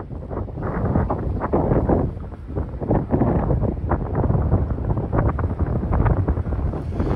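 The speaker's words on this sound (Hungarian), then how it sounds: "eszméletlen a szél" Strong wind buffeting the microphone in loud, continuous gusts outdoors beside a railway line, rumbling and roaring with no other sounds standing out.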